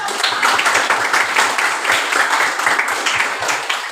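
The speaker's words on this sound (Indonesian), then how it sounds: "Berikan tepuk tangannya" Classroom students clapping together, a dense crackle of many hands that holds steady for about four seconds and fills the room without a pause.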